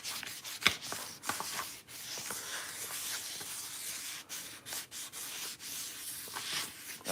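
Fine-grit sandpaper scrubs over a Goped scooter part in quick, uneven back-and-forth strokes, close and fairly quiet, with no voices.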